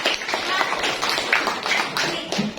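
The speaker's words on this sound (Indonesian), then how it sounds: "Boleh tepuk tangan kita semua" Schoolchildren in an Indonesian classroom clap their hands together, a dense, steady patter of many small claps lasting a couple of seconds, close and fairly loud, with a few voices mixed in.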